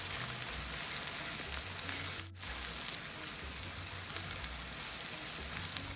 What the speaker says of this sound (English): using the same oil, I'm going to go ahead and add in my chopped up onions, and I'll fry it until it begins to turn brown